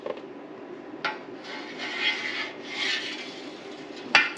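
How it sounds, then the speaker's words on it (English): Knife strokes through cheddar cheese curd give soft, close rubbing and scraping swishes, with a few sharper clicks from the blade between the quiet slicing passes. "If you want a drier cheddar that you can age for longer, make smaller slices through your cheese."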